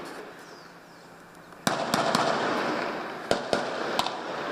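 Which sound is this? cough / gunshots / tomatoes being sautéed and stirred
gunshots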